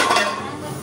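Rice is washed in a metal pot in a home kitchen, with steady close scraping and clinking of metal against metal, busiest at the start and then settling into softer swishing.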